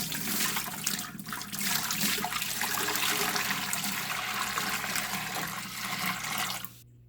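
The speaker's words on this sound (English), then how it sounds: "All right, let's add this water to the tank." Lukewarm water poured into a bearded dragon tank, a continuous splashing rush that runs steadily for several seconds and cuts off abruptly at the end.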